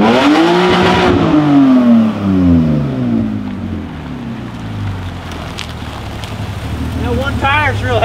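A BMW E30 with a swapped S52 engine revs hard and bounces off the rev limiter, loud and close, with wind buffeting the microphone and people talking over the engine noise.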